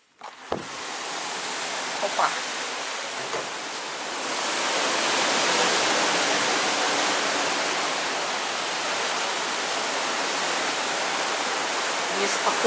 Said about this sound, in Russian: Неспокойно серое море.